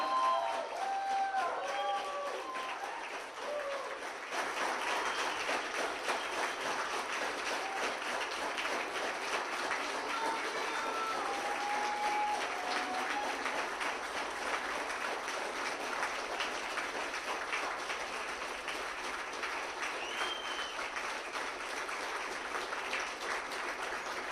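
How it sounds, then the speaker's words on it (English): Sustained applause from a crowd, steady dense clapping that continues throughout at an even level. "I think we all now owe a round of applause to Cynthia Hughes"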